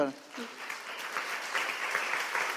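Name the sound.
applause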